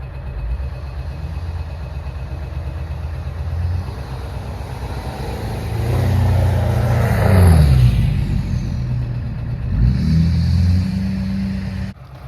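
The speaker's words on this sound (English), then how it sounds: "Truck has been running for a while, so let's kick the high idle off" A 7.3 Powerstroke diesel truck engine with 740,000 miles runs with a deep, steady rumble, revving up louder midway before easing back from high idle to a constant idle; no one speaks.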